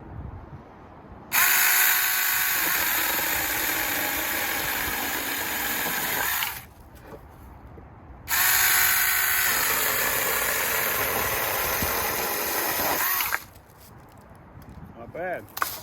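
A Saker mini chainsaw bites through a limb about 2 inches thick in two loud, steady bursts of a few seconds each, with the small motor quieter between the cuts.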